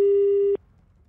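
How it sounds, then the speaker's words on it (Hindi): Telephone busy tone after a call disconnects: one steady, loud electronic beep lasting about half a second, then cutting off to near silence. "फोन लगता है डिस्कनेक्ट हो गया है"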